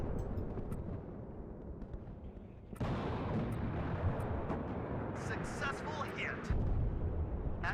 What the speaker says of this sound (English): I very much doubt it because the artillery is constant.